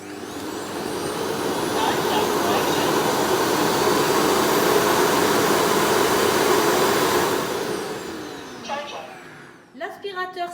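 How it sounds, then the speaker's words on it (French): An Ultenic TS1 robot vacuum's self-emptying station roars with a loud, steady suction whoosh for about seven seconds, then winds down and falls away, followed by a few short beeps and clicks. "il va se vidanger tout seul et mettre directement lui-même toute la poussière, se vider dans le sac"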